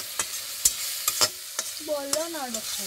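Kosha mangsho, spiced meat, frying in a pan with a steady broadband sizzle, broken by sharp spatula scrapes and stirring knocks, plus a brief tonal whine partway through.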